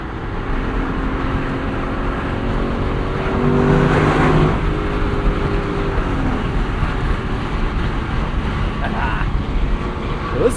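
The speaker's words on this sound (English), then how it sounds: "cool thing about this car is you don't really have to be going fast for it to sound good" A 2025 Lexus LC 500 convertible's V8 engine hums steadily in the mid-rev range during highway driving, holding a smooth, continuous tone with a slight swell, while a person talks over it.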